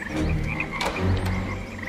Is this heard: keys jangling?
no